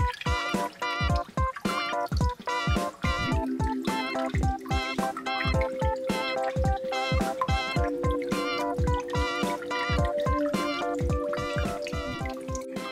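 Water poured over a children's bath toy decorated with a yellow fish and a blue penguin on a purple star, giving a steady run of close, rhythmic drips and trickles over a bright musical backing.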